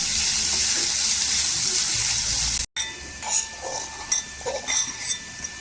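Onion sautés in hot oil with a steady sizzle, which breaks off, then gives way to quieter spitting and scraping from the stirred pan.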